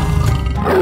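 A tiger's roar, loud and close, one sustained deep growling call filling the whole moment with no talk over it.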